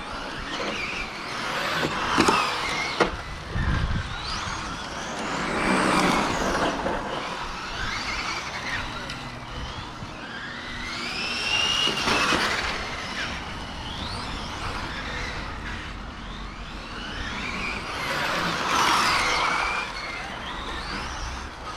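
Electric 1/8 RC cars, a Traxxas X0-01 and a Serpent 811 among them, whine past on a track in repeated swelling and fading passes, with high-pitched motor sweeps and a steady rushing noise throughout.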